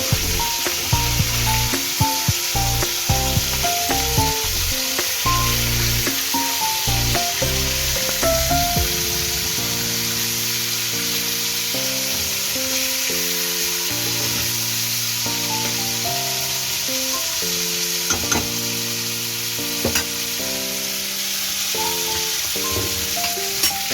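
Chicken pieces sizzling in a pan for a light curry, a constant bright hiss of frying that runs the whole time beneath louder background music.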